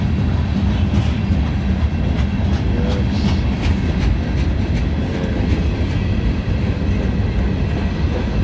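A CSX freight train rolls past at Mt Airy, Maryland, with a Soo Line center beam car in the consist. The rumble is loud, close and continuous, with faint rhythmic clicking of wheels over rail joints, and no one speaks.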